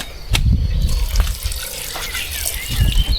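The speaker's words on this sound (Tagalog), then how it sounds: "Lagyan natin guys ng konting tubig." Water poured into a pan of freshly caught fish as it cooks, a steady splashing gush running through the short stretch with no talk over it.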